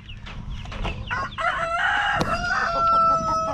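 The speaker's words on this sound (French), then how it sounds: "Belle petite poule Amérocana" A small Ameraucana hen clucks close by in a barnyard coop, a quick run of sharp clucks followed by a drawn-out, squawking call.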